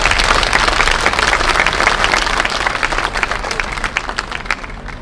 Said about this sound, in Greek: Ένα χειροκρότημα για αυτό το τραπέζι.